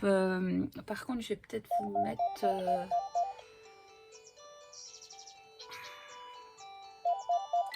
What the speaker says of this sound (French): Désolée pour le téléphone, évidemment, ça sonne toujours quand on fait des vidéos.